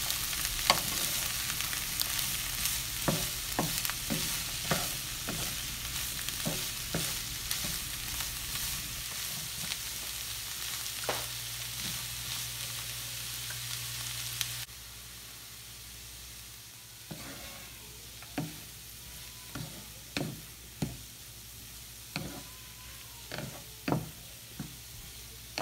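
Capsicum pieces with turmeric fry on a medium flame, a loud continuous sizzle for the first half that then quietens, with regular spoon knocks and stirs against the pan throughout.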